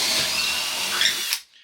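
A power drill boring a 1/2-inch bit through a 2x4, a loud, close, steady whine that runs on, then stops abruptly as the bit breaks through.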